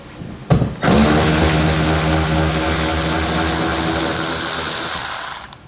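Power tool loosening and removing the bolts that hold a pickup truck bed liner, a loud steady whirring drone that starts abruptly after a short burst and runs almost without a break, with no talk.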